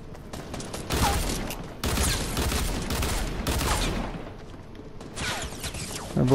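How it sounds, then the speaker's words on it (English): Bursts of rapid gunfire in the video game Fortnite, loud and close, firing in several dense volleys with short gaps between them, with no talking over it. "is he shooting at you?"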